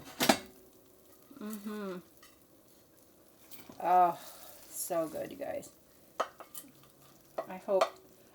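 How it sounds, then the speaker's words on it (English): Faint sizzling from a pan of tuna noodle casserole ingredients sits beneath a person talking, with scraping and clinks of a utensil stirring nearby. "You guys hear the sizzle?"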